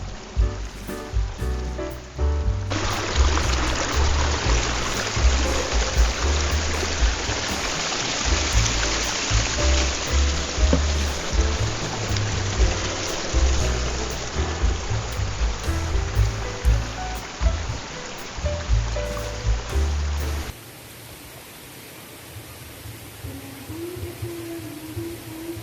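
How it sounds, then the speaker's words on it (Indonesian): A small stream at a campground in Sukabumi spills over rocks like a mini waterfall, giving a steady, full rush of flowing water that stays close and continuous and then drops to a softer trickle near the end. "Sungainya terlihat seperti air terjun mini yang cantik dan manis."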